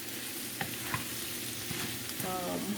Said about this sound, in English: I'm not going to stir this too much because I don't want it to mash up.